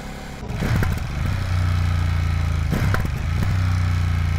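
A 2025 Ducati Streetfighter V2S motorcycle engine revs up close and loud, with two sharp throttle blips over a deep, steady running drone and no voices.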